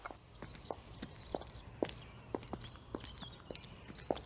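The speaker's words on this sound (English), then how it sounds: "high-heeled shoes," Women's high-heeled shoes click along an outdoor footpath in a sharp, evenly spaced series of about eight steps, with faint birdsong and street ambience behind.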